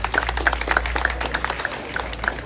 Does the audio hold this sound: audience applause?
yes